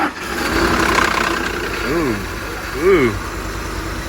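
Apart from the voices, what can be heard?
Ford F-150 engine idling, 330,000 miles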